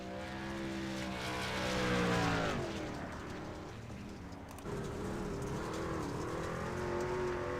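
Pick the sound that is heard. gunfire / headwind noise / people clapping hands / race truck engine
race truck engine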